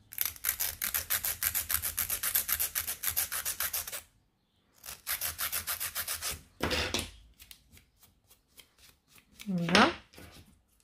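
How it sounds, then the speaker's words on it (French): A nail file rubbing back and forth across fingernails during a Russian almond and French reverse manicure: fast, rhythmic rasping strokes in two long bursts, then scattered lighter strokes, close and soft, with a brief voice near the end. "Je vais limer encore un petit peu ici."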